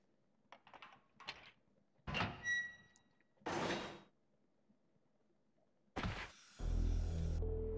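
Resident Evil 3 game: a heavy metal cover is hooked and dragged open with a fire hook, heard as a few separate clunks and scrapes before a long grinding, rumbling slide that ends in a low resonant hum.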